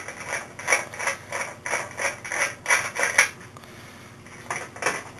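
A nut driver or socket unscrewing the fasteners of a fluorescent light ballast makes a run of close metallic ratcheting clicks in quick bursts, with a brief pause before a final few turns.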